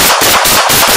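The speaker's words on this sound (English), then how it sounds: "Shots!" Rapid gunfire during a police body-camera incident in Los Angeles, with four sharp, loud shots evenly spaced in quick succession.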